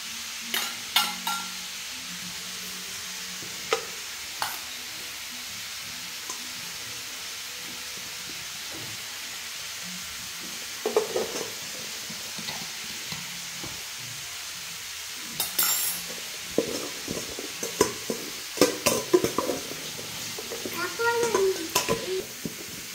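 Mixed vegetables for pach torkari stir-fry in a pan, giving a steady low sizzle with scraping stirs and clinks that grow busier toward the end, while a voice speaks intermittently.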